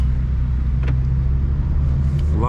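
Car engines rumble steadily nearby as vehicles pull away, a low continuous drone with a brief rising rev near the end; the cars include a BMW G87 M2.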